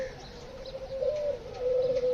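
Doves in an aviary coo in a low, steady, drawn-out tone, close by and clear, with a faint chirp or two behind.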